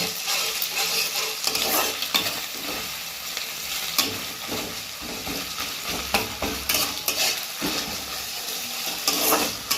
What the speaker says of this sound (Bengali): আদা রসুন বাটা দিয়ে দিলাম, দিয়ে পেঁয়াজের সাথে ভালো করে ভাজা ভাজা করে নেব।